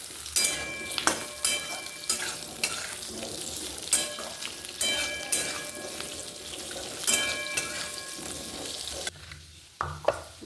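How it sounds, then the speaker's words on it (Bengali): Potatoes fry in a pan over onions and whole spices, sizzling steadily while a spatula scrapes and stirs in repeated bursts, close and clear with no talking. "আলুগুলো আগে ভেজে নিই"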